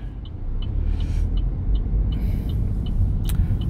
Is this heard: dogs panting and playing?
no